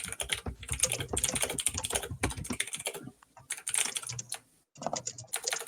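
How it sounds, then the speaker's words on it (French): Rapid clattering keystrokes on a mechanical keyboard, close and fairly loud, in dense bursts with a brief pause before typing resumes. "c'est qui tape son meilleur roman là avec son clavier"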